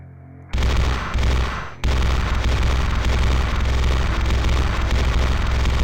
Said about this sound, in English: Let's go shoot some zombies.